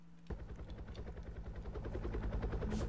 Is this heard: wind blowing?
no